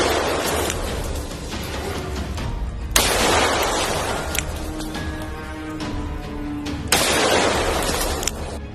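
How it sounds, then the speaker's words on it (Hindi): Three sharp revolver gunshots crack out, spaced a few seconds apart, over a dense, noisy background. "अपने रिवॉल्वर से 3 गोलियां उसके ऊपर दाग दी।"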